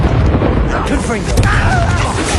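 Confringo, the blasting spell in Hogwarts Legacy, erupts in a loud booming explosion amid crackling combat effects, with voices in the fight.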